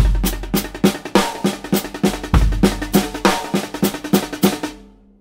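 A drum groove with kick and snare hits and busy, prominent left-hand snare ghost notes played too loud, crowding the beat, loud and close, ending with a brief ring.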